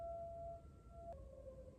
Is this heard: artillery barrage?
no